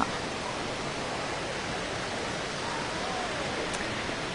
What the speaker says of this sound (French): Et voilà la grande cascade derrière